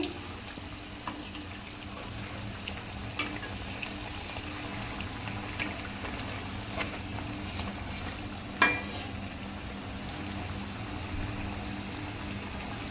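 Coconut pitha fritters frying in hot oil over a medium flame, a steady bubbling sizzle that runs throughout, dotted with small clicks and pops and one sharper knock, no voices.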